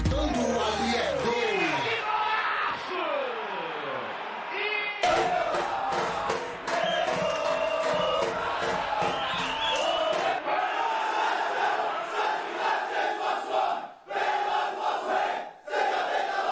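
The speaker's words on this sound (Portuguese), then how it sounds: "A torcida enlouquecida, gritando ali é gol." Democratas Futebol Clube supporters chant and shout at a solemn anniversary session, a loud crowd with voices and cheering blending throughout, shifting in texture partway through.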